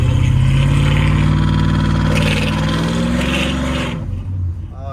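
A cammed 5.3 V8 fitted with a Carven R exhaust revs loudly and close up, its choppy idle climbing into a rising rev, then dropping off sharply near the end.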